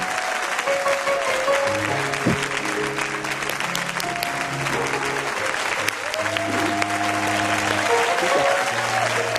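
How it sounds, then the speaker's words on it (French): A church congregation applauds loudly and steadily throughout, a dense sustained wash of clapping with faint voices and music tones underneath. "On acclame la parole de Dieu."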